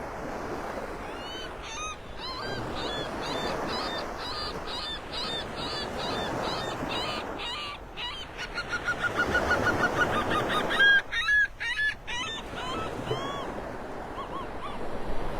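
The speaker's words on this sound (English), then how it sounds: "That was the seagull closest to me making that racket, squawking at the other one." A seagull on a Florida beach squawks repeatedly at another gull nearby, harsh rapid calls in bursts, loudest near the end, over the steady wash of surf.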